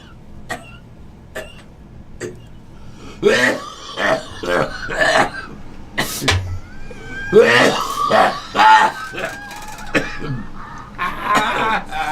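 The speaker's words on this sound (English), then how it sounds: "I'm gonna cough like a cunt." A man coughs hard and repeatedly in harsh, rasping fits, close and loud, with throat clearing and strained breaths between bursts and some talk mixed in.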